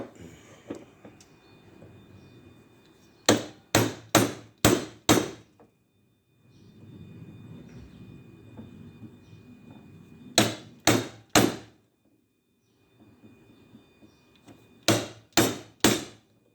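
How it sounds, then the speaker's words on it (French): Steel chisel struck with a hammer to split open lead-sheathed electrical cable, heard as three bursts of four to five sharp, ringing metallic blows, each set separated by quieter handling and scraping noise. "il faut prendre un burin. Et on ouvre."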